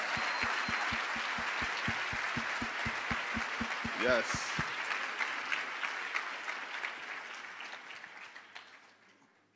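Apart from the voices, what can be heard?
audience round of applause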